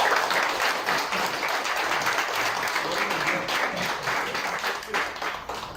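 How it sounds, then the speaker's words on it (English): A crowd gives a big round of applause for Prince, thick sustained clapping that holds steady and then slowly eases toward the end. "please give this guy the biggest round of applause."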